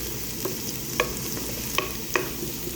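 Spices are sautéed in a little oil for kadhi pakora, giving a steady soft sizzle with a few sharp clinks of a spoon against the pan, close by and with nobody talking.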